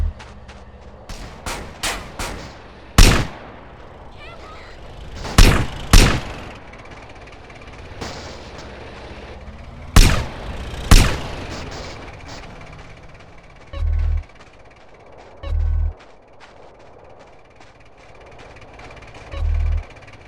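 Enemy gunfire in GTA San Andreas during a countryside mission: scattered sharp, loud shots in uneven bursts with quiet gaps between, then a few deeper, muffled thuds toward the end.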